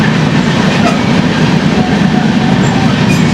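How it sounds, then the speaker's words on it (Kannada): Passenger train on the Bengaluru to Ankola route rolling along, loud and close, with a steady rumbling roar and clattering wheels on the track, heard from inside the carriage. "ಸೊ ಇವಾಗ ನಮ್ಮ ಟ್ರೈನ್ ಕೂಡ ಹೊರಡ್ತಾ ಇದೆ."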